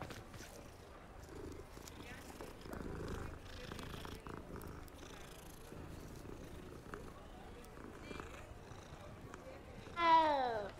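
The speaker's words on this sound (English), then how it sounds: "now we'll run down to the store over here and pet the cat." A cat being petted in the Hogwarts Legacy video game, a soft continuous purr under game ambience and footsteps, ending with a louder meow-like call.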